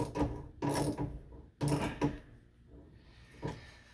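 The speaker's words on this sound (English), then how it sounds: "And then the gear clamp can be tightened." A 5/16 gear clamp is tightened on a Frigidaire dishwasher hose, giving several short, close ratcheting and clicking bursts separated by pauses, with no talk.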